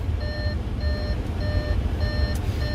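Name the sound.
Audi warning chime that the ignition is still on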